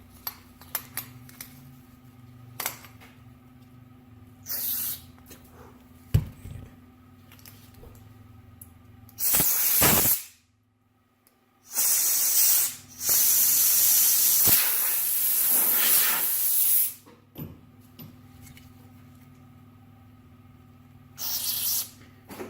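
Carb cleaner spray hisses in long, loud bursts through the carburetor of a Yamaha SR250 motorcycle, with several sustained blasts separated by short pauses and small clicks and taps of handling between.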